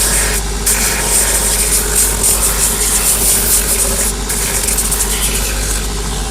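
A shoe repair finishing machine's rough wheel sands the heel of a Tricker's shoe during a Commando heel replacement, a loud, steady broadband whirring and grinding roar that continues without a break throughout.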